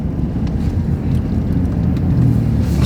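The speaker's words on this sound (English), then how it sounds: "I'm gonna downshift. Now we're at full, at 3rd gear." A 2013-or-later Ford Fusion's engine drones steadily and loudly from inside the cabin while downshifting, with a dense low rumble and no talk.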